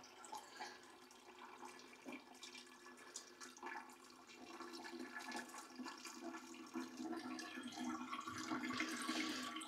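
Water is poured generously over a potted Monstera plant indoors and runs through the soil, a continuous soft rushing and trickling that grows slightly louder toward the end, with no talking.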